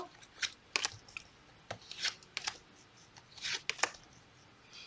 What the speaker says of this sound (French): Alors, je rajoute des cartes.